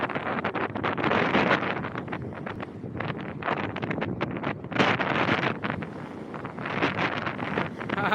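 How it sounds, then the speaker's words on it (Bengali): Strong stormy wind roars steadily at Digha beach at night during a tidal surge, a loud continuous gusting rush that buffets the microphone, with waves likely mixed into the broadband noise. "আজকে চলছে আকর্ষণীয় জলোচ্ছ্বাস তারই সঙ্গে প্রবল ঝড়ো হাওয়া"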